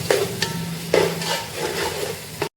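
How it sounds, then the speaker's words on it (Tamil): Tomatoes stirred and sautéed in a pan for chicken biryani, with scraping spoon strokes and soft clanks over a light sizzle, ending abruptly. "தக்காளியை சேர்த்து நம்ம நல்லா வதக்கணும்"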